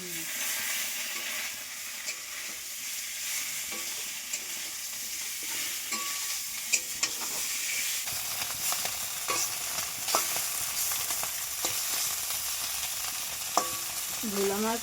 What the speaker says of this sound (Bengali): এবার ভোলা মাছগুলোকে ভেজে নেব।